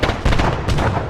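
A grenade bursts in the Arma 3 video game, a quick run of rough, booming blasts packed into about a second, loud and close.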